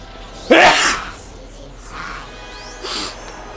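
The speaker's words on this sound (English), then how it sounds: "I gotta sneeze." One sharp, loud sneeze bursts out up close, then a couple of fainter sniffs and breathy snorts trail after it.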